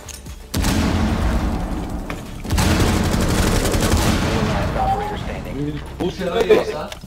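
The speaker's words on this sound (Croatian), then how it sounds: "Throwing frag." In the video game Rainbow Six, a frag grenade blast lands as a sudden loud boom, followed by sustained rumbling gunfire and debris, with voices talking near the end.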